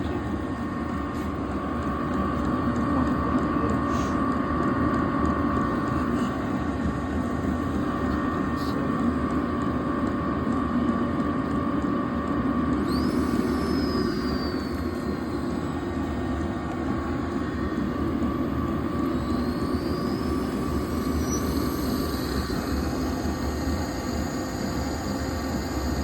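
A diesel heater modified with hot oil injection and a supercharger runs continuously, giving a steady, loud, rumbling roar with a droning tone and faint higher whistles over it.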